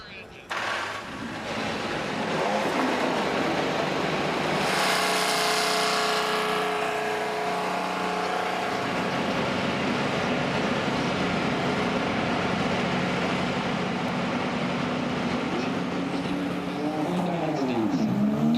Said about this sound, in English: 25 engines fired up and ready to roll